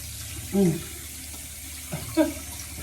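Warm tap water runs faintly as a face is rinsed at a sink, with a voice speaking briefly over the steady trickle.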